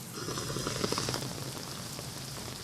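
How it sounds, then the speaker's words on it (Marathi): Steady, continuous rain falls in Raigad district, a dense, even patter on surfaces that holds at a constant level throughout. "रायगड जिल्ह्यात 2 दिवसांपासून संततधार पाऊस आहे"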